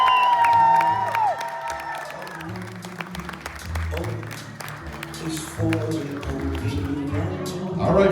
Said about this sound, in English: let's give these newlyweds one more round of applause